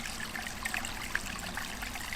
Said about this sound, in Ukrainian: Ось є й таке джерело.